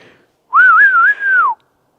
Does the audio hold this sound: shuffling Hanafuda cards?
no